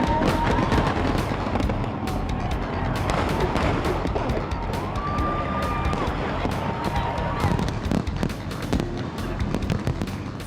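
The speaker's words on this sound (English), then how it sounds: "Fireworks burst overhead as the field surges along both sides of Ala Moana Boulevard." Fireworks burst overhead at the start of the 2008 Honolulu Marathon on Ala Moana Boulevard, sharp repeated pops and crackles over a noisy crowd with sirens wailing in the background.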